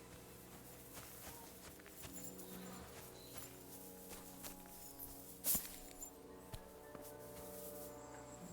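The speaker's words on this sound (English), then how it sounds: "A beautiful horse. Black as charcoal." Black horse in Kingdom Come: Deliverance 2, a soft, steady clip-clop of hooves on the ground over a low ambient hum, moderately close, with one brief sharp high click midway.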